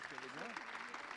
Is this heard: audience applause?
yes